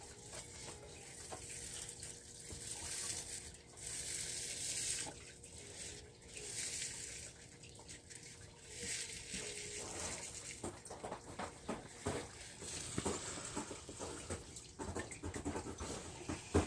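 Infused oil is squeezed through a filter cloth, giving quiet, uneven trickling and dripping liquid sounds that come and go in soft bursts with small handling noises, faint and with no talking.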